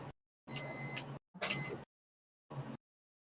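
Electronic beeps from the Splatoon video game during a Clam Blitz match: three short, clean tones separated by silence, the first two longer, the last brief.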